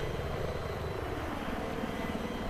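A helicopter lifts off in the video game Battlefield 3, its rotor and engine making a dense, steady, pulsing roar that fills the short stretch without a break.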